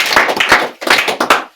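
A small group gives the host of a homestead a quick round of hand clapping at a Kikuyu ceremony, two short bursts of close, sharp claps with a brief gap between.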